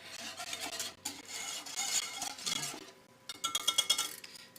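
A whisk scrapes and clicks quickly against a bowl as brown sugar and salt are mixed, in uneven bursts that get faster and sharper toward the end, close and fairly quiet.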